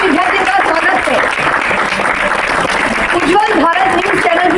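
An audience claps to welcome top-ranking students of Jai Ambe School at an exam-results event. The applause is dense and continuous throughout, with a voice speaking over it.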